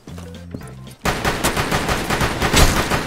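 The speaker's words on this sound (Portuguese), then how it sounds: "Minha pistola automática!" Automatic pistol fire in Rainbow Six bursts out loud and rapid after a second of quieter game sounds, a dense run of close shots that continues to the end.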